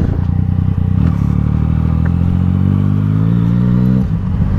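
Close, loud rumble from a Yamaha MT-09 motorcycle fitted with an aftermarket exhaust, its pitch climbing steadily as the revs rise under a rattling clatter before it briefly dips.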